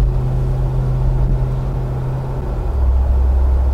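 Toyota Landcruiser 80 Series with an LS V8 conversion and paddle shift cruising in sixth gear through Adelaide traffic: a steady, loud low engine drone with a humming tone that shifts slightly near the end, continuous throughout.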